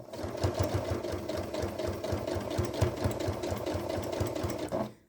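A sewing machine stitches fabric for a DIY bucket caddy, running steadily with a rapid, even mechanical chatter close up, then stopping abruptly near the end.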